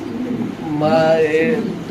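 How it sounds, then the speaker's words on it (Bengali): A single male Mondain pigeon gives one short, close, throaty coo in the middle of the clip, set against low background noise. "আমরা একটু কবুতরের ডাকটা দেখাচ্ছি"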